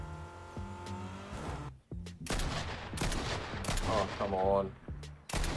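Bursts of Monarch pistol fire crack out in Fortnite Chapter 5 Season 4, with rapid shots mixed with vehicle and tire noise and a brief spoken exclamation.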